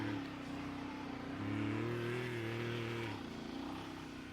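Nearby, a Voge DS800X Rally 2025 adventure motorcycle's engine revs steadily, then drops a gear. The drone rises and holds at a higher pitch before settling back down on a trail ride, with no talking heard.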